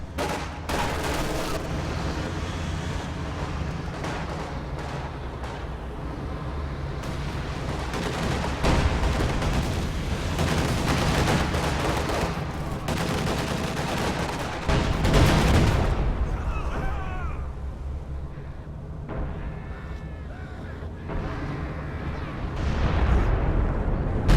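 Artillery bombardment in a World War II shooter, rolling booms and heavy blasts layered with scattered gunfire across a long stretch, loudest around the middle, with voices talking throughout.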